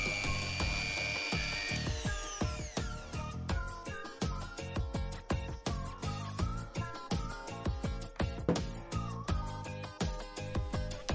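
Repetitive scraping and clicking of a small hand drill biting into a plastic miniature, turning in steady rhythmic strokes, close up, without talk.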